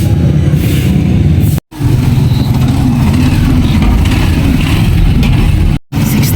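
A tricycle's engine runs at close range in busy Manila traffic near Divisoria, a loud, rough, continuous rumble that idles and revs, broken by two brief dropouts.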